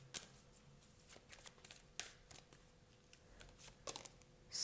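Tarot cards shuffled and laid out by hand, soft papery riffles and flicks with a few sharper snaps, quiet and close, ending in a brief louder burst of card handling.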